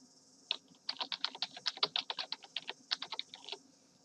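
Rapid bursts of keystrokes on a computer keyboard as a section title is typed, close and crisp in an uneven rhythm over a quiet background.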